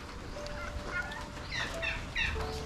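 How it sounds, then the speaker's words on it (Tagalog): Several loud, throaty gobbling calls from nearby turkeys rise over a steady outdoor background, coming in short bursts one after another. "Meron ng mga pabo dito."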